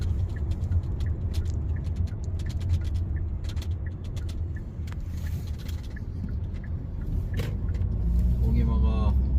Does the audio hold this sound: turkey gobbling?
no